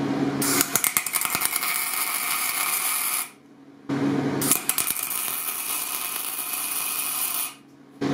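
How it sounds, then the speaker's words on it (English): MIG welding tacks on a steel giant axe: two long stretches of loud, steady crackling arc buzz, each lasting about three seconds, separated by a short pause, with no talking. "I might just MIG weld in there now"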